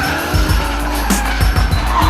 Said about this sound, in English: check out some of the D1 GP drivers drifting firsthand